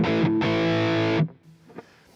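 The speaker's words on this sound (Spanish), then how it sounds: "en este preset lo que tendremos es poco reverb y poco delay, ¿vale? Y tendremos un sonido bastante seco." An electric guitar played through a Line 6 Helix preset with little reverb and delay, a dry distorted chord held for about a second and then cut off short, followed by faint string noise.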